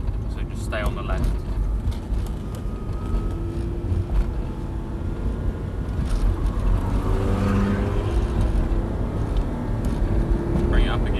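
Audi R8 building power after an upshift, a steady broadband engine drone that swells gradually in loudness, with people talking inside the car throughout.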